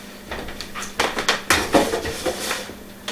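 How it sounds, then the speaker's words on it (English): Metal bread pans clank and scrape as they are slid into a kitchen oven heated to about 400 degrees for rosemary olive bread, with several sharp close knocks and rattles in quick succession. "Now let's go ahead and I want to pop them in the oven."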